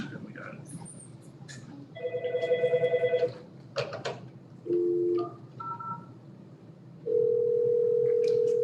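Telephone dial tones and keypad beeps on a conference phone line, a series of short tonal chirps followed by a steady sustained dial tone, loud and close, with people talking in the room.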